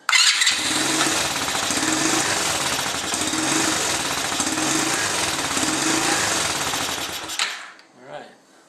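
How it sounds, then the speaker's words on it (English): A small engine runs loudly and roughly after its choke is turned off, a steady rattling, popping roar for about seven seconds before it cuts out and sputters briefly. "As soon as I turn the choke off, she cracks out."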